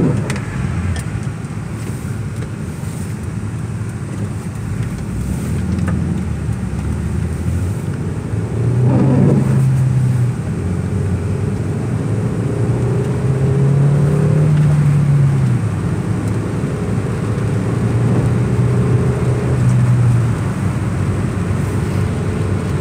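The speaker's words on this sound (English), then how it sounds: "the motor sounds kind of poopy" The engine of a Hyundai Elantra GT drones loudly and steadily from inside the car during a test drive, with low rumbling swells as it accelerates and no one speaking.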